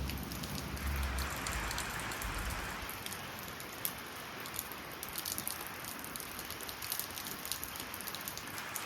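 Light rain falls steadily at Ukhimath in the Himalayan foothills, a dense patter of drops on surfaces with scattered sharper taps, continuous and close, with no talking.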